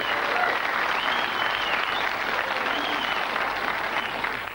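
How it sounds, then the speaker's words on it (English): A TV studio audience gives loud, sustained applause for Lloyd Grossman on a celebrity game show, an even wash of clapping that holds throughout and eases slightly at the close. "Here's the real applause for Lloyd Grossman."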